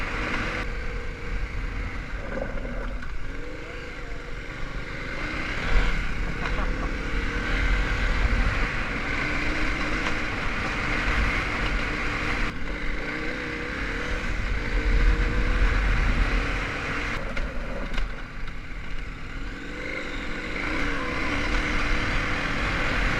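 A KTM 1190 adventure motorcycle on an off-road rally test ride, its engine droning steadily with gentle rises and falls in revs, mixed with wind rush, continuous and fairly loud throughout.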